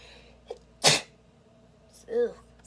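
One person sneezes sharply and loudly at close range after a brief sharp inhale, then gives a short vocal sound moments later.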